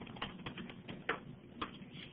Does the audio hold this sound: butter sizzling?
no